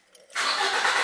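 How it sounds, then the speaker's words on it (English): A car engine cranks and catches after a short quiet moment, then settles into a steady close rumble. "now I think that I need to start a little bit my car."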